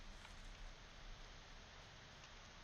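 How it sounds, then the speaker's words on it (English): Rain falling in a video game, a dense, even hiss of downpour with no breaks and no voices, quiet overall. "Listen to that rain!"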